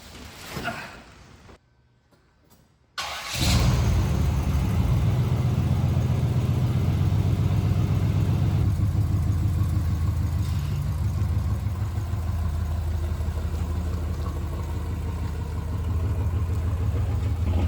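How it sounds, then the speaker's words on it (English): A 1980 Pontiac Trans Am engine starts after a brief pause and settles into a steady, rumbling drive from inside the cabin, loud and continuous. "I'm gonna take it for a drive and make sure that the customer's brakes work"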